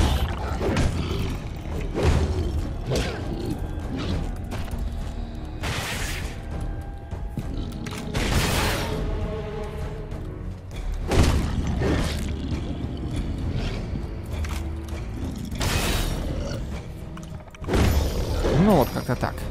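Explosions burst repeatedly in the video game Alice: Madness Returns, broad loud booms recurring every few seconds over a continuous game soundtrack with someone talking throughout.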